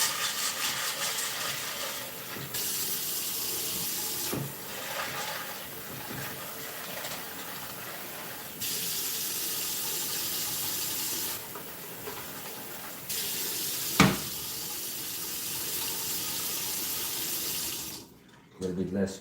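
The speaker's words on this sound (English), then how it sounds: "So, gonna fill up some water here." Water runs steadily from a tap into a container as it fills, a close and continuous hiss and splash that shifts in tone a few times before stopping.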